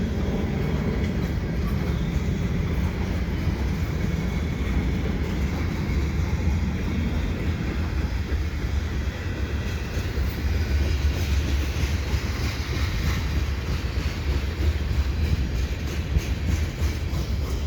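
A CP freight train with a heritage SD70ACU locomotive rolls past a level crossing on a winter Saturday afternoon, a loud, steady rumble of wheels and cars that holds constant throughout without fading.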